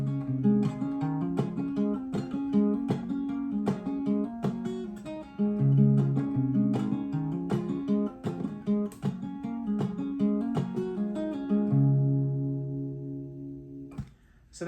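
A guitar plays the intro of a song at regular speed, with picked notes and strummed chords in a steady rhythm, up close and clear, ending with a final ringing chord and a brief knock.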